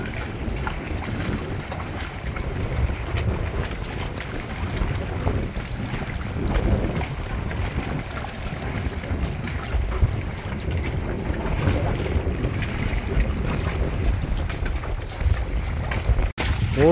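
A sailboat under motor runs at full throttle through strong wind, giving a steady, loud roar of engine, water and wind buffeting the microphone throughout.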